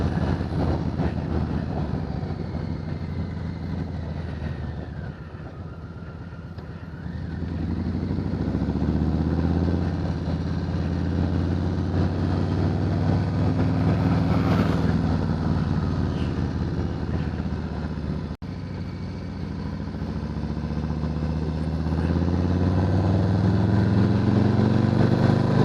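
A 2020 Harley-Davidson Softail Standard motorcycle's engine drones continuously while riding, a loud low rumble that rises and falls with throttle changes and wind noise.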